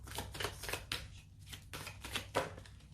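Angel oracle cards are shuffled by hand in a quiet room, a run of soft, quick riffling bursts with brief pauses between them, close and fairly faint.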